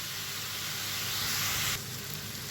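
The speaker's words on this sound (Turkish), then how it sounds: "Şimdi güzelce bunları da soteleyeceğim iyice bir yani." Chopped onions sizzle and crackle steadily in a hot pan, a soft continuous frying hiss with no talking.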